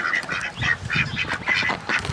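Ducks leaving a farm coop in the morning quack repeatedly in a loud, close, uneven chorus of nasal calls.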